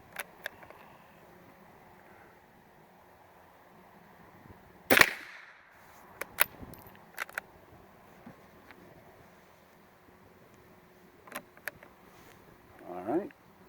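A .22 rifle firing Russian ammunition lets off a few sharp, scattered cracks at an outdoor range, one louder shot standing out, with quiet gaps and faint background noise between.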